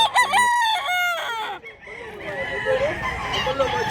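Roosters and chickens at a live poultry market in Mantalungon, Cebu, crowing loudly and close, with clucking and more crowing layered over a busy crowd murmur.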